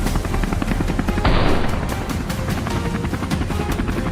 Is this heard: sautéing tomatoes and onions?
no